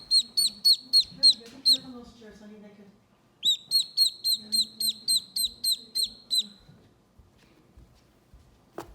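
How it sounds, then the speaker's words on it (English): A vintage Fisher-Price Sesame Street farm playset toy plays an electronic duck sound, two runs of rapid, bright, evenly paced chirping tones separated by a short pause, with a voice faintly beneath. "Look, Elmo, it's a duck in the pond."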